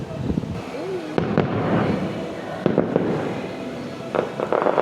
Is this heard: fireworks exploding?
yes